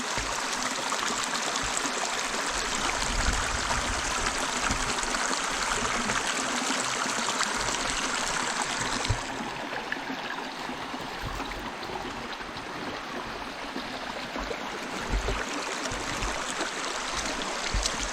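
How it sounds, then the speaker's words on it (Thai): Water from a forest stream flows in a steady, continuous rush with a soft trickling texture, close and even throughout, briefly easing a little midway, with no voices. "น้ำไหล"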